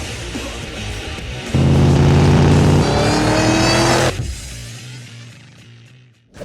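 A Shelby GT500 sports car engine revs hard and loud, climbing in pitch, then drops back to a rumbling idle and fades.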